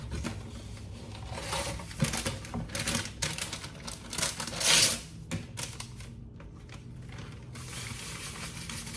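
Vegan chicken pieces are shaken in a Ziploc bag for a homemade shake-and-bake coating, making a continuous close rattling and crinkling that swells briefly in the middle, with no voices.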